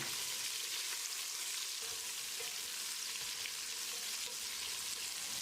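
250 grams of onions for chicken donne biryani sizzle in a hot pan with a steady, close hiss and crackle that continues without a break. No one speaks.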